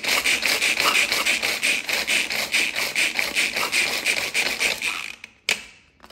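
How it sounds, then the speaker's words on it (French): Speculoos biscuits are crushed into powder with steady, rhythmic grinding and crunching strokes, close and fairly loud, ending with a few sharper knocks. "Ici je viens concasser des spéculoos jusqu'à les réduire en poudre."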